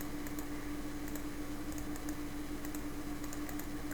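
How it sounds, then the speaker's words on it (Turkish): Quick, fairly faint computer keyboard typing, keys pressed somewhat hard, patters along steadily over a constant low hum, with no voices. "biraz klavye sesi gelebilir Birazcık sert basıyorum çünkü"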